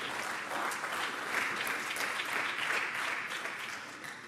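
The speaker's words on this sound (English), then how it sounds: "But I know you're clapping." Fairly faint, distant audience clapping at a keynote speech during an innovation conference, swelling slightly midway and tapering off at the end.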